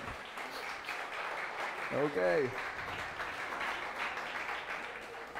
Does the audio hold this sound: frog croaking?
no